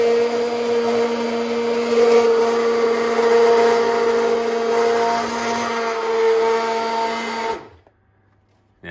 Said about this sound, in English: probably a good idea to blend it